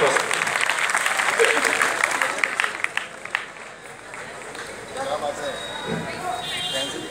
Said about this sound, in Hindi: जोरदार तालियां छोटे से बच्चे के लिए